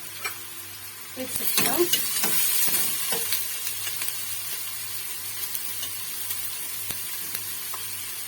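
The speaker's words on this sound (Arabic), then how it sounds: "هنا غادي ندير البصله ديالي طيح هي الاولى باش تهبط" Chopped onion dropped into hot olive oil in a home kitchen, frying with a steady sizzle that flares loudly at first and settles into a constant crackle, with occasional stirring clatter and a brief spoken word.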